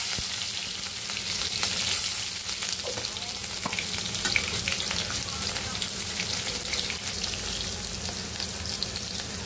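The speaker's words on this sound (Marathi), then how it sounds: "आपण टाकी राई, आपण टाकाना थोडं जिरं, थोडा टाकाना आपण लसूण आणि हिरवी मिरची" Mustard seeds, cumin, garlic and green chilli hiss and spatter in hot oil for a dal tempering, a dense continuous sizzle heard up close with faint popping throughout.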